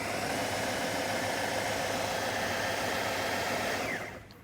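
A kitchen mixing machine churns sweet pastry dough of flour, sugar, vanilla, butter and eggs, a steady loud motor whir with rumbling texture that winds down at the end.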